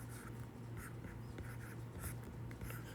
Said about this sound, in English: so let's write it down.